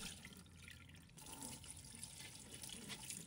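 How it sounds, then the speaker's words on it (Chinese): Goji berries are rinsed in clear water in a kitchen, with steady running and sloshing water, faint and continuous, without talk. "接着倒入清水，冲洗掉面粉，再换水清洗一遍"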